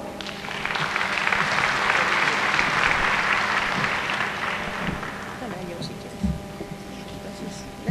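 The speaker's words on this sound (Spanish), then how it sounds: "Un fuerte aplauso, por favor" A scientific conference audience gives a strong round of applause for an invited speaker, dense clapping that swells early then gradually thins out, with a few low knocks near the end.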